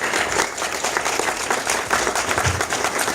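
Applause from a live audience for a funk band at a music clinic event, a moderately loud wash of many hands clapping with a slightly uneven texture throughout.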